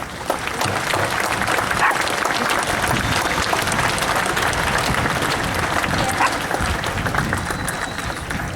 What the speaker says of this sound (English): let's give them a round of applause at this time